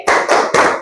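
Children clap in unison during a maths clapping chant in a classroom, three sharp, loud group claps in quick even rhythm with no voices between them.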